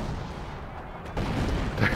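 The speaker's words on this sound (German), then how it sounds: "Da kommen die ganzen Schüsse." Howitzer artillery fire in the strategy game Company of Heroes rumbles in dense, overlapping booms and shots, getting louder and heavier toward the end.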